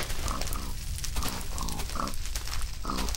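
Pigs in the Minecraft video game grunt in a few short, separate bursts spread across a few seconds, standing out over a steady background.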